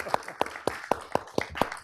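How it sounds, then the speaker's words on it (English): Clapping after a talk on art and religion as technology: a short run of about seven evenly spaced claps, close and distinct, with little crowd wash around them. "Let's give him a round of applause."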